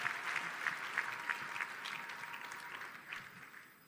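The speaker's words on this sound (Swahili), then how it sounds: "Nafikiri tumpigie makofi zaidi huyu kijana." Audience at a church fundraising event applauds warmly, many hands clapping in a steady dense wash that gradually thins and softens toward the end, with no talking over it.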